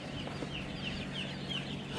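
Chickens cluck steadily in a poultry shed while feeding from small feeders, with several birds calling at once over a constant low shed hum and no talking.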